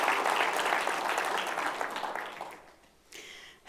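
Church congregation applauding and cheering in praise during a French-language service, a dense loud ovation that fades away, followed by a brief faint burst of noise.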